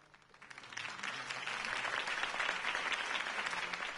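A crowd in a video game breaks into applause that swells quickly and holds steady, a dense wash of clapping heard from a moderate distance.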